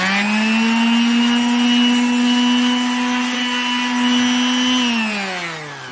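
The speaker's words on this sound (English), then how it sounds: "I'm using my sander." A power sander works a wooden tabletop with a loud, sustained whirring hum at a steady pitch, then winds down as the motor slows at the end.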